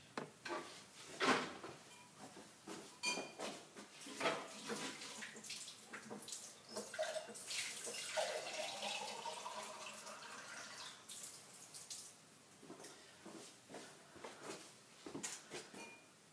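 Fresh water running from a tap into a container in a painting studio, a steady close gushing and splashing that rises and falls across the whole stretch, with faint handling clatter and no talk.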